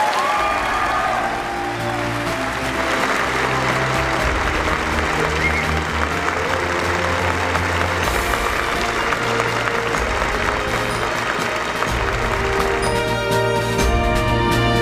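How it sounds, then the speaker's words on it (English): An audience at a Utah Senate debate applauds the candidates, a broad continuous clapping with some cheering, as low music swells underneath and carries on throughout. "let me invite our very well-behaved audience to offer the candidates their hearty applause"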